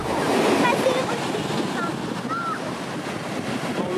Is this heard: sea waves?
yes